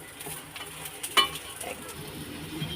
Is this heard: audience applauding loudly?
no